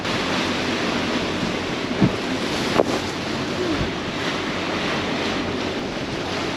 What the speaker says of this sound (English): We have now been in this confused state of seas for the past 7, almost 8 hours.